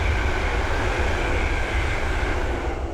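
An East Midlands Railway service formed of two Class 360 electric units, working Corby to London St Pancras on the Midland Main Line at Ayres End Lane, passes close by with a loud, steady, unbroken rumbling roar throughout.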